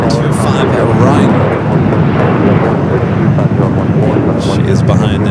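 A Boeing 747 holding on runway 25 right at LAX sends a heavy, steady rumble and roar with gusty wind-like noise across the recording; the sound is loud and continuous with no talk over it.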